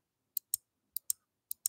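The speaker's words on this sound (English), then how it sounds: "It makes a clicking sound." Airsoft VSR-10 sniper rifle trigger box switch clicking, six sharp close clicks in three quick pairs with short pauses between, alone in quiet.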